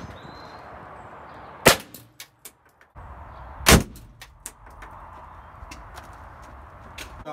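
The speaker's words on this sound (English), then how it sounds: "that is when a curtain airbag deploys" Side curtain airbag firing inside a Ford Fiesta, heard as two sharp, loud blasts about two seconds apart, each standing out sharply against a quiet background.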